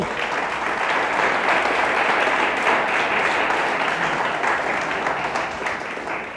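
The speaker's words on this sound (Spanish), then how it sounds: "Denle un fuerte aplauso a Dios." A church congregation breaks into loud, sustained applause filling the room, a dense wash of clapping that holds steady before easing slightly toward the end.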